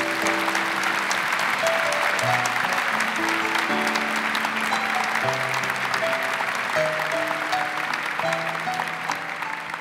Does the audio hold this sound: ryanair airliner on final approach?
no